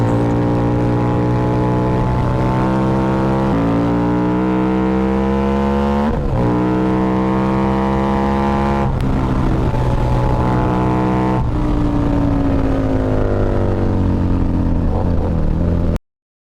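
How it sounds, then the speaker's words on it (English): A Harley-Davidson V-Rod motorcycle with its Porsche-developed engine and smooth, higher-pitched exhaust note: a loud, steady engine drone rising in pitch through several gear changes, with brief dips at each shift and no voices. "The iconic rumble was gone, replaced by a smoother, higher-pitched exhaust note."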